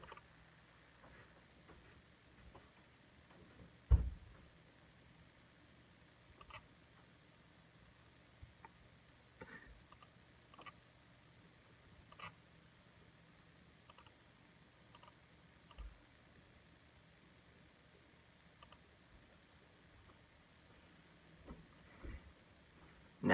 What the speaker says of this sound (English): Now type in "you win" with quotation marks. Select second alpha and type.